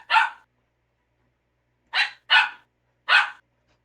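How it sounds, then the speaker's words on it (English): Dogs barking in a creepy video game, one sharp bark, then a pause, then three more in quick succession, loud and close with no talking. "Why are the dogs barking?"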